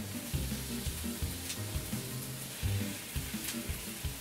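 Strips of fish sizzle and fry in tomato sauce in a pan, a steady soft crackle with low bubbling and occasional stirring knocks, quiet and close.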